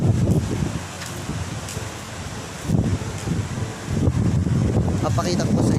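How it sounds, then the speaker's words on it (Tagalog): Strong wind buffets the microphone while waves churn at sea, a steady rough roar with gusty swells, loud and continuous. "Lalakas na po ang alon. Malakas na rin po ang hangin."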